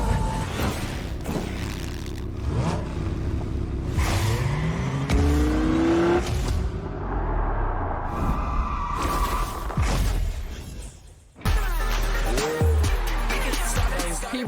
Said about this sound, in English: People are just flying around in cars all over the place